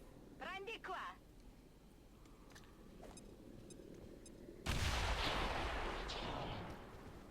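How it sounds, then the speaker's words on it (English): A grenade blast in XCOM 2 lands as a sudden loud broadband burst that rumbles and decays over a couple of seconds, following a short stretch of quiet game ambience with a few faint clicks. "We've got the grenade here. We can highlight all of them."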